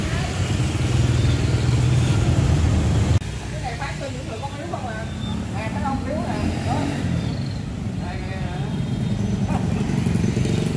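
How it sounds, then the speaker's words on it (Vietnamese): A motorcycle engine drones steadily as it draws closer during a charity rice-and-noodle handout in Bình Chánh, Vietnam, with people talking over the continuous rumble. "Rồi xe máy tiến gần lên anh."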